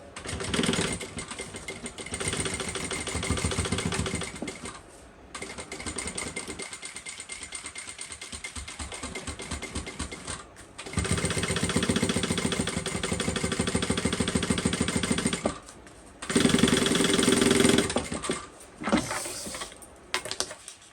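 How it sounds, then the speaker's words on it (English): Sewing machine stitching a second row on a bucket bag, running in several loud, steady bursts of close rapid motor hum separated by short pauses. "I am going to come in and do a second row of stitching next to the first ones"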